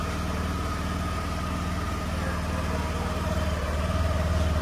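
A Honda Activa scooter engine idles with a steady low note and even vibration, running continuously and fairly close, with no voices.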